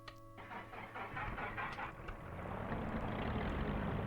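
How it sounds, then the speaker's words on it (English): The starboard piston engine of a Britten-Norman Islander starts in the X-Plane simulator. A short starter whine leads into a rough, cranking catch that builds into a steady, rising engine drone, close and continuous. "Let's start with the starboard engine first."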